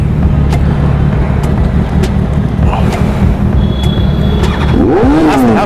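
A motorbike engine revs during a police stop at Durga Puja, loud and close, running steadily with a rising whine near the end amid street noise.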